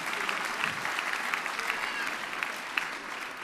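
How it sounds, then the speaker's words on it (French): A live audience applauds loudly at a quiz game event with a harmony band, a dense and continuous patter of many hands clapping throughout. "On applaudit, Stéphanie, on applaudit bien fort."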